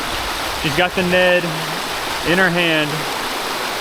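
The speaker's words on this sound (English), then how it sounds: "We got a nice little waterfall." A small waterfall on a river rushes steadily in the outdoors as a broad, even wash of water noise, while someone talks over it.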